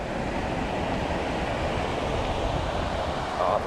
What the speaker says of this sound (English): I know it's a little windy, so sound is probably off a bit